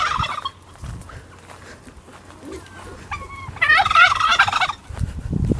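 A turkey gobbles loudly nearby in a quick rattling burst, preceded by a few short higher calls, with rustling and wind in the background.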